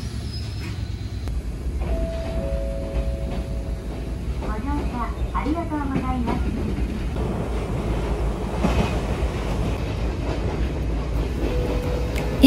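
A retro train in Matsue, Shimane, Japan rolls steadily along the rails with a low continuous rumble, while people talk nearby and a brief tone sounds.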